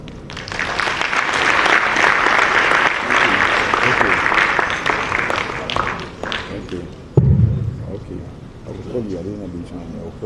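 Applause from an audience after a speech on democracy fills the first seven seconds, dense and loud, then breaks off as a voice starts talking close to the microphone.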